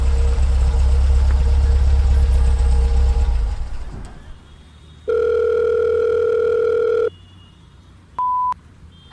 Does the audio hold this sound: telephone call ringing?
yes